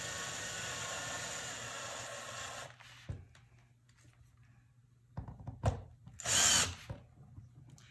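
Power drill driving half-inch screws through quarter-inch OSB into a bucket lid, a loud steady whir for under three seconds, then a short quiet gap, a few thunks and a second brief burst of the drill.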